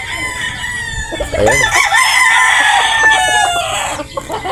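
Gamecock rooster at a game farm in Batangas crowing in one long, loud, drawn-out call with a sharp rising start, close by, with someone speaking briefly before it begins.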